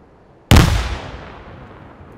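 A single loud blast of video game gunfire or an explosion erupts abruptly after a short quiet, then rumbles and decays over the following seconds.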